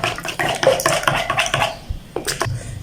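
Eggs for a cheese omelette beaten briskly in a bowl, a rapid series of close utensil clicks and taps against the dish, pausing briefly before a few final strokes.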